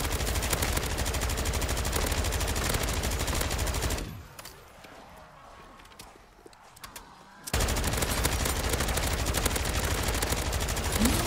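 Rapid automatic gunfire in the video game Modern Warfare 3 Zombies, loud and continuous, breaking off for a few seconds of quieter game sounds before the sustained shooting resumes.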